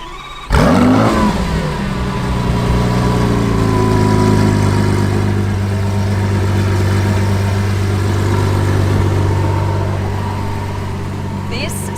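A hybrid Lamborghini engine fires up with a sharp burst, then settles into a loud, steady, deep idle that holds with a faint warble to the end.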